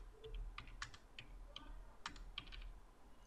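Quiet, irregular keystrokes on a computer keyboard while a date is typed into a form field, a few close clicks spread over a faint background.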